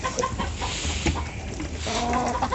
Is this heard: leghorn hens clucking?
yes